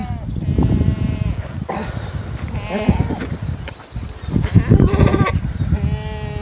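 Kathiyawadi goats bleating on a farm, several loud nearby calls overlapping in bursts with short gaps between them.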